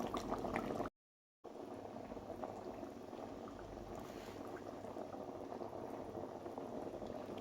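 Pot of Senegalese thieboudienne with aubergine, okra, chilli and fried fish bubbling at a steady simmer, a continuous close liquid burble with a brief cut near the start, no speech.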